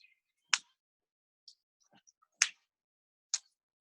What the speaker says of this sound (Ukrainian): Плескає долоньки.